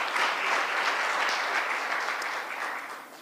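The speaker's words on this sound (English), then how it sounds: "I think she deserves another round of applause" Sustained audience applause at a justice report launch event, a dense even wash of many hands clapping that fades slightly toward the end, no speech over it.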